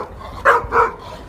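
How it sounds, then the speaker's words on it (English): A dog barks twice in quick succession, short moderately loud yaps near the microphone against a quiet background. "He's a funny dog."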